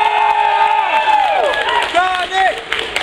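An audience at a MomoCon 2014 Sonic convention panel cheers and shouts for Sonic in a loud, brief swell of crowd noise, mixed with a strong tonal sweep.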